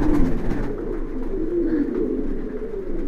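Kaldom pigeons cooing on a pigeon farm, a continuous low rolling coo close by, steady and fairly loud throughout, with faint background bird noise.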